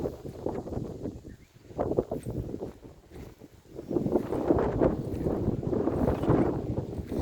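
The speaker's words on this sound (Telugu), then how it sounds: "చూడండి, గాలి కూడా చాలా బాగా వస్తున్నాయి." Wind gusting across a five-acre farm field planted with mango and guava trees, with rumbling buffets that dip briefly and then swell into a steady blustery roar; no talking.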